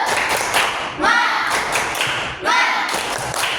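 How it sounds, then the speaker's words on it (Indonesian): Schoolchildren in an elementary math class clap together in a repeating rhythmic spirit clap. Bursts of claps and thumps cycle roughly every one and a half seconds, and the children chant along in the gaps. "Oke, yuk tepuk semangat."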